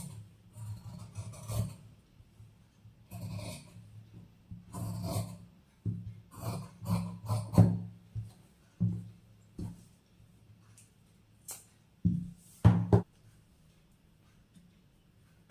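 Scissors cut through blouse fabric along the back neckline in short, close snips and rustles, with quiet gaps between bursts.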